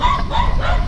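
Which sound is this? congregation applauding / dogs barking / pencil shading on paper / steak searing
dogs barking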